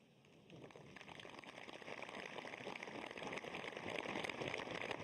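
Steady rain falling in Srinagar, a continuous dense patter on surfaces that swells gradually louder, with a faint voice briefly underneath.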